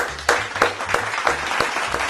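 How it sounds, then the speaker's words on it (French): Audience applause in a studio setting, sustained clapping with sharp individual claps standing out at a steady pace over a low background hum, fairly close and moderately loud. "Applaudissez pour lui."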